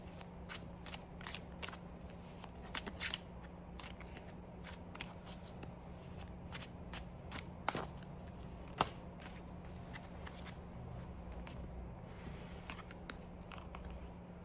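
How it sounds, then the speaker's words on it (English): Tarot cards being shuffled by hand at close range, a long run of quick papery riffles and flicks with a couple of sharper snaps, quiet and without speech. "Let one card fall out or pop out."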